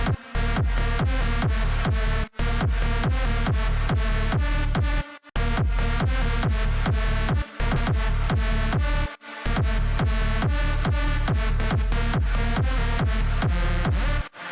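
A bright synth lead in a remix plays a rapid, steady rhythmic pattern of punchy repeated notes, loud and upfront, broken by a few brief gaps.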